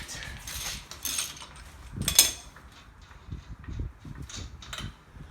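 Axle nut on a 2006–2009 Honda Civic being broken loose with a long cheater bar, heard as scattered metallic clanks and ratcheting clicks with one sharp loud crack partway through, close by in a garage.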